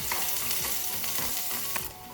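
Chopped garlic frying in hot oil in a pan for a street-food paneer spring dosa gives a loud, continuous close sizzle with a few light stirring taps, easing slightly at the end.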